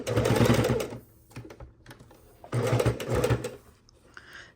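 A sewing machine stitches binding onto a quilt in two slow bursts of about a second each, stopping between them for needle-down pivots at the corners; the whirring is close and clear.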